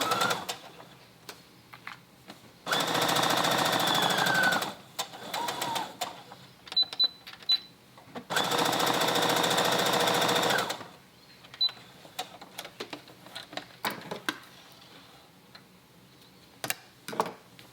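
A sewing machine stitches a dart on a jacket in two loud sustained bursts of a couple of seconds each, separated by quieter handling clicks and ticks.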